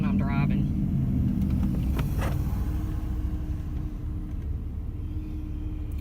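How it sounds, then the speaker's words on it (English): Heavy road traffic rumbles past, heard from inside a moving car through a slightly open window, a loud continuous low roar with a brief burst of talk at the start. "Sorry for the loud vehicles, because I have to have my windows cracked when I'm driving."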